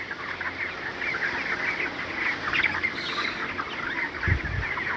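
Broiler chickens on a Bangladeshi farm cluck and chirp continuously nearby, with a couple of low thumps just before the end.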